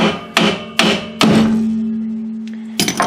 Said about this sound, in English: And then I just do a little tappy tap